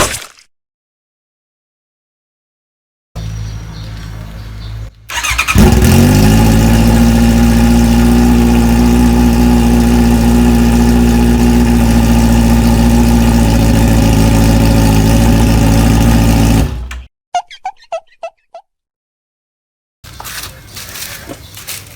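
Motorcycle engine with its Akrapovic exhaust tip removed, roaring loud and close for about twelve seconds with a steady droning rumble, then cutting off, followed by a few short sharp noises.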